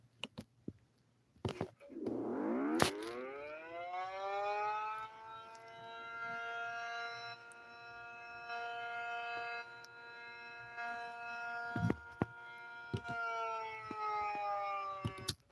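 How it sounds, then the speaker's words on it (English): A civil defense siren sounds a fire signal, winding up from a low growl into a loud, steady, sustained wail that holds and then dips slightly, with a few clicks and knocks nearby. "Fire signal."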